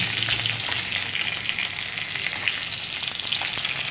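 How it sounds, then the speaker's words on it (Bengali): Fish pieces cooking in a pan for a thin Bengali fish curry in a home kitchen give off a steady, close-up sizzle and hiss of frying oil, with no voices. "এই দু পিসি মাছ করছি"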